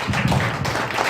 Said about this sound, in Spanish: Yo quisiera que le des un aplauso al Rey.